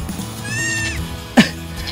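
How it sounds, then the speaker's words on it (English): Baby goats wearing pajamas give a short bleat, followed by a sharper, louder cry near the end, all close by over a steady background murmur. "Everywhere I look, baby goats."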